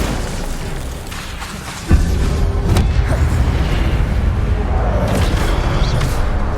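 A fiery Incendio spell burst in the Hogwarts Legacy video game erupts with a sudden heavy boom, then a sustained roaring rumble that stays loud over a steady background of game noise.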